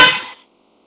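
Truck horn honking from the street below a second-floor home, one short loud blast that cuts off quickly and fades within half a second.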